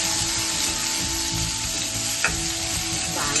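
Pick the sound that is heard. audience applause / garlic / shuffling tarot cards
garlic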